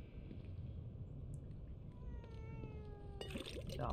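A cat in the game The Evil Within 2 gives a few soft, drawn-out meows over a low rumbling background, with a brighter burst of noise near the end.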